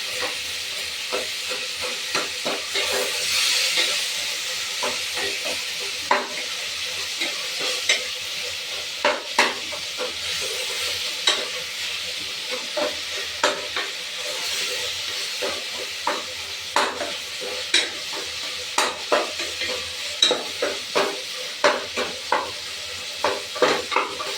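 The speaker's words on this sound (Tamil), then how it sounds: "இது நல்லா வதங்கணும். தக்காளி நல்லா குழைய வதங்கணும்." Tomatoes sautéing and being stirred in a pan for a country-chicken biryani, an even hiss of frying under frequent rhythmic spoon scrapes and knocks against the pan, growing busier toward the end, with no speech.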